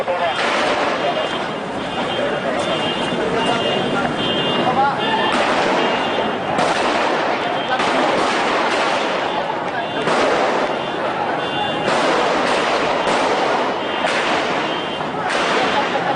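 Repeated loud bomb blasts and bangs go off during a police shootout at Sarinah in Jakarta, over a continuous din, with excited voices talking and shouting throughout.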